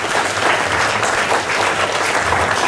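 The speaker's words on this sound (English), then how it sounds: "Let's give a big round of applause for teachers." An audience at a parent orientation class claps for teachers, a dense, steady round of applause that holds evenly for a few seconds with no talking over it.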